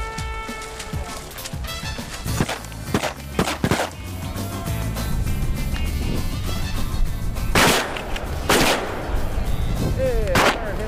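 Gunfire from shotguns on a Texas duck hunt cracks out in several sharp, loud bursts, some close together, over an outdoor background.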